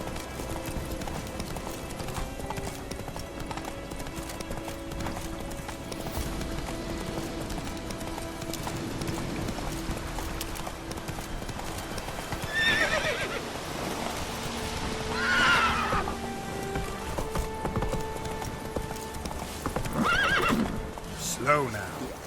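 Roach, a horse in The Witcher 3, galloping with continuous hoof clip-clop and whinnying several times, the neighs standing out clearly amid game sounds, with voices speaking over parts of it.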